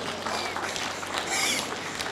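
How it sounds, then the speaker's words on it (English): Church congregation applauding and clapping for Jesus during a sermon, a steady wash of many hands close by, with cheering and raised voices mixed in, lasting about two seconds. "put your hands together for Jesus"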